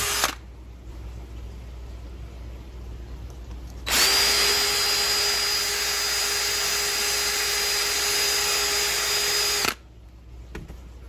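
A power drill bores a hole, roughly 5/16 inch, through a plastic bottle cap, a steady high whine lasting about six seconds after a quieter start, close and loud, then stopping abruptly.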